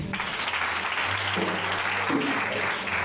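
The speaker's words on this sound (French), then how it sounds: "Acclame Jésus" A church congregation breaks into sustained applause, dense and steady clapping from many hands filling the room throughout, with some faint vocal sounds mixed in.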